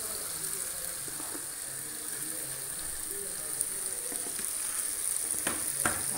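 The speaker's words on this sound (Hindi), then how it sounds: "और मसालों को अच्छे से थोड़ा सा इसको भून लेंगे।" Spices for arbi (taro root) sabzi, with salt and hing, roast and sizzle steadily in a hot pan, a continuous soft crackle with a few sharper pops near the end.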